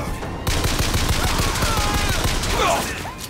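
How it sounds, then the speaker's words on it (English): Rapid gunfire from enemies in the first-person shooter Bioshock Infinite, a dense burst of shots starting abruptly and continuing steadily, with faint voices in the background. "they're shooting at me right now"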